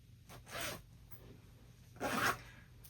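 Zipper on a sewn fabric zipper pouch pulled in two short strokes about a second and a half apart, close and quiet with nothing else heard.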